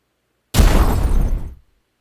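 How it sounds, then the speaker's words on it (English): A single video game explosion sound effect bursts in abruptly out of silence. It is a loud, broad, crunching blast that rumbles on for about a second and then cuts off cleanly. "There's a lot of explosions."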